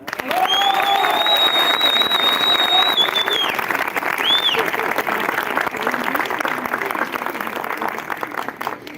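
Wedding guests at a Turkish civil marriage ceremony applaud and cheer loudly and continuously for the couple, a dense crowd sound with a whistle cutting through early on.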